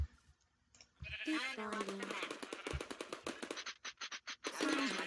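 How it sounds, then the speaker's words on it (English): Sheep bleating in Minecraft with the FTB Infinity Evolved modpack, a wavering bleat heard twice amid rapid bursts of turret gunfire, with a voice talking over part of it. "Let's get a sheep."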